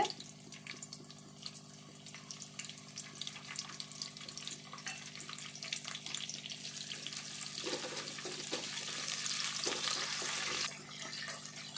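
Onion and curry leaves frying in oil in a pan for a traditional raw fish curry, a steady close sizzle and crackle over a low hum, growing louder and denser toward the end, with no voices.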